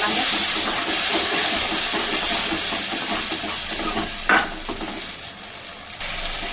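Ginger-garlic paste and masala roasting in a pan for an aloo soyabean curd curry, a loud continuous sizzle and hiss close up, broken by a brief sharper scrape of stirring partway through, with no talking.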